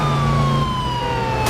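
A police car siren in Driver San Francisco, near a 1974 BAPD Monaco: a loud, continuous wailing tone sweeping slowly downward, heard alone and close, with steady traffic noise underneath.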